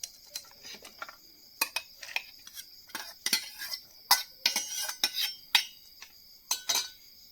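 Spoon stirring a boiled sprout mix of moth beans, mung beans, chickpeas, peanuts, maize and a little cabbage in a bowl, giving a run of irregular close clinks and scrapes with brief pauses, no talking.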